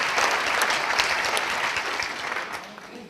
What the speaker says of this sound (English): Please stand up and let's everybody give them a round of applause